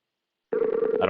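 A Skype outgoing call ringing tone starts abruptly after a half-second of silence, a steady bright electronic tone that is close and fairly loud.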